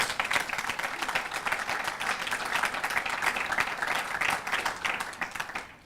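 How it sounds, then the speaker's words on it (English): Warm audience applause at a scientific lecture on the future of vaccines, a full, even patter of many hands clapping, fairly loud and steady before tapering off abruptly at the close. "I want to just one round of applause for the only person who is not thanked, which is Katerina"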